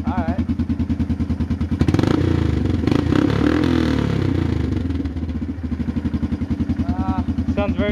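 A 1986 Kawasaki Bayou 300 ATV engine revs up hard and holds a loud, rough roar for a few seconds before dropping back to a steady idle.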